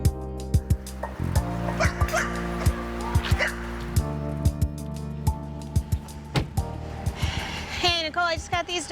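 Emaciated, underweight dogs found running loose at Folly Beach, now at an animal shelter, barking repeatedly in sharp, close yips with whimpers and snorts between, ending in a rapid flurry of high-pitched cries.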